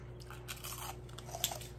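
A giant crouton-style snack from an Italian snack box, crunched and chewed close to the mouth in a few quiet, brief bites with a low steady hum behind.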